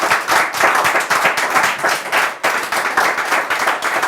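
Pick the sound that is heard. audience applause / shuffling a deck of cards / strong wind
audience applause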